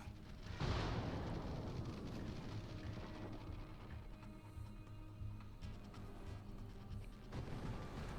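Rockets launched from an aircraft in the naval combat game World of Warships, a sharp burst near the start followed by sustained rumbling and crackling gameplay noise, with a further thump near the end.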